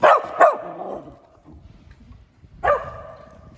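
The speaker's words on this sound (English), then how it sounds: "He's trying out a new thing where he barks at Roxy in different barks to see how she reacts." A dog barks twice in quick succession, pauses, then lets out one more loud bark close by.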